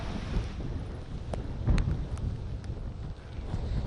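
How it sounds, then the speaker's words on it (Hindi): Strong cyclone Nisarga wind buffeting the microphone on the coast at Versova, a loud continuous low rumble with gusty surges and no talking. "यहाँ पर काफी तेज हवा चल रही है"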